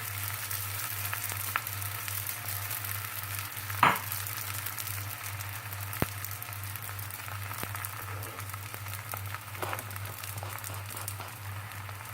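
A stuffed msemmen crêpe fries in a pan as oil is splashed around its edges, giving a steady, quiet sizzle with one brief sharper flare partway through.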